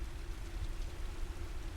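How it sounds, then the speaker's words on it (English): Light rain falls steadily on a surface at night, a soft continuous patter with a low rumbling bed, individual droplets faintly distinguishable within the even wash. "I can hear individual droplets now, rather than the broad wash from earlier"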